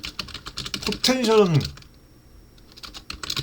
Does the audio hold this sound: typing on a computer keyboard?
yes